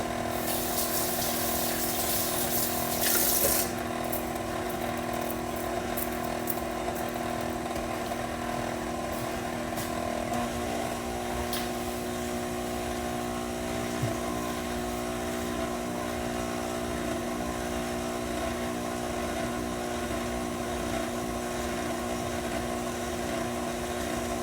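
An electric mixer blends velvet cake batter with a steady, continuous motor whine. A brief rattle at the start gives way to an even hum throughout, close and moderately loud, with no talking.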